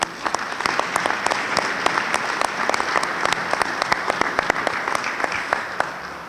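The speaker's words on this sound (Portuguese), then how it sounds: "uma grande salva de palmas." Applause at a swearing-in ceremony for a volunteer firefighters' association board, a moderately sized crowd clapping steadily with distinct individual claps standing out across the whole stretch.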